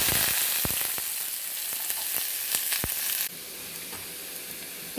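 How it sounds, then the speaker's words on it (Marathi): Chopped onion dropped into hot oil already popping with mustard seeds and cumin, giving a steady bright sizzle with scattered sharp crackles and pops, then a slightly softer, even frying hiss as the pan settles. "आणि आता मी हा कांदा घालून घेते।"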